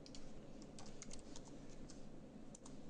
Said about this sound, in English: And here I'm going to type in some contact information.